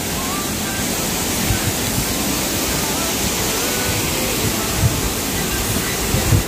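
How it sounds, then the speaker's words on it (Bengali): Changey waterfall near Kolakham, water plunging from a great height, roars as a steady, dense broadband rush that fills the whole clip without pause, loud and close, with no voices over it. "ফলসটা হচ্ছে এই যে একদম অনেক উঁচু থেকে জলটা পড়ছে।"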